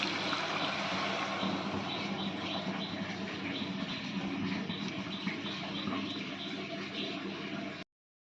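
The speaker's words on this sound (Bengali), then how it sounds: "মিক্সি ধোয়া জলটাও অ্যাড করে নিয়েছি।" Water used to rinse a mixer jar pours steadily into a cooking masala paste of poppy seed, melon seed, curd and cashew, a continuous rushing, splashing flow, close and fairly loud, ending abruptly.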